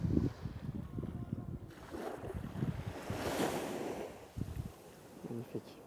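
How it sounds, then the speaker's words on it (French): Ocean waves at Hayama beach, Japan, washing and breaking in a steady outdoor rush, mixed with wind buffeting the microphone and some low rumbling disturbances. "Alors, les derniers bruits des vagues."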